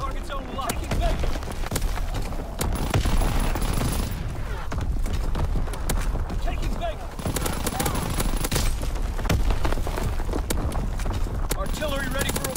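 WWII video game artillery barrage, dense continuous volleys of firing and impacts rumbling steadily throughout, with radio-style voice callouts over the top.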